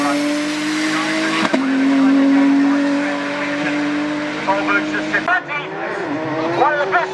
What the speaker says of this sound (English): Another super quick entry, the MR2 Super GT Toyota